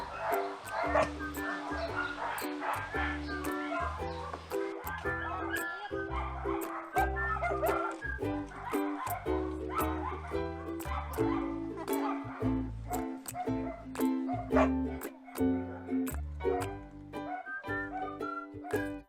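Several dogs bark and yip in quick bursts throughout, mixed with whimpering, while people talk in the background.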